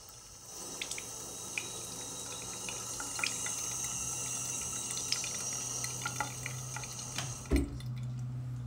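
A tap runs in a steady, soft stream with scattered drips and small splashes close by, fairly quiet throughout, and a brief thud near the end.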